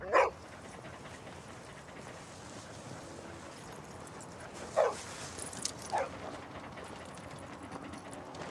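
A dog gives a few scattered, distant barks and yips, one near the start and a couple more midway, faint against a low steady background rumble.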